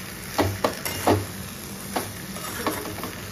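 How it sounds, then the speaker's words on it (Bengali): Vegetables sautéing in a pan after salt is added, a soft steady sizzle broken by a few scraping stirs of a spoon against the pan, close and without talk. "এবার একটু কষানো।"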